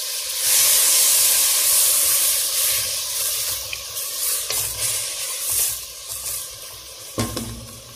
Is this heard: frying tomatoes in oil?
yes